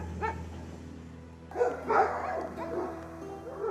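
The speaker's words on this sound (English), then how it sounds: "The dogs are nervous. The bears can't be far." Dogs nervous near bears in the Transylvanian countryside, giving a few yips, whimpers and barks at moderate distance over a low background hum.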